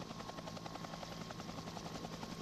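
A helicopter filming the 2001 Amstel Gold bike race, a steady, dense rotor drone with rapid blade pulsing, continuous and moderately loud, with no speech.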